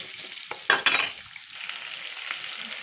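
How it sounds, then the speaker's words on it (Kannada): Onions with turmeric fry in a pan for idli upma, a steady soft sizzle with a couple of louder scraping stirs near the start, close and without speech. "ಇದ್ರ ಜೊತೆಗೆ ಸ್ವಲ್ಪ ಅರಿಶಿನ ಹಾಕ್ಕೊಂಬಿಡಿ, ಕಲರ್ಗೆ ಚೆನ್ನಾಗಿರುತ್ತೆ. ಅದನ್ನು ಹಂಗೆ ಫ್ರೈ ಮಾಡಿ ಸ್ವಲ್ಪ ಕಲರ್ ಬರಲಿ."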